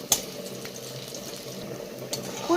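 Prawn fritters fry in hot oil with a continuous bubbling sizzle, close by, plus a couple of sharper clinks at the start and near the end.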